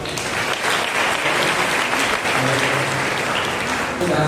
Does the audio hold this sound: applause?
yes